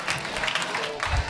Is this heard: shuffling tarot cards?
no